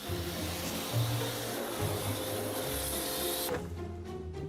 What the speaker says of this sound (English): First, a quick blast from a power washer.